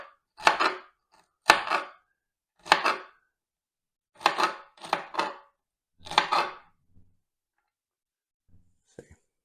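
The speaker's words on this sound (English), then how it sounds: "Take one celery stalk and slice it up into 6, and then really small chop from there" A knife chops a celery stalk on a cutting board in short bursts of quick close taps, with gaps between each burst and a few faint clicks at the end.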